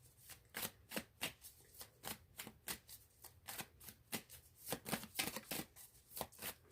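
Cards of a Wild Unknown Tarot deck being shuffled, a steady run of quick crisp riffling snaps, close and fairly quiet, no talking.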